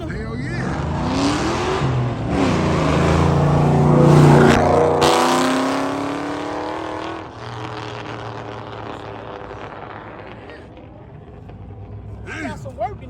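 A Dodge Hellcat at a car meet revs up, its engine rising to a loud peak with a high supercharger whine, then settling to a lower idle hum before a brief final blip, no talking heard.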